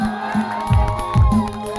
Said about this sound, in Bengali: চলো সবাই মিলে একবার দাদার জন্য করতালি হোক।